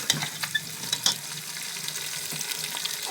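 Onions sizzling and frying in a pan as part of a homemade achaar gosht preparation, a steady close crackle with occasional louder stirring scrapes, no voices.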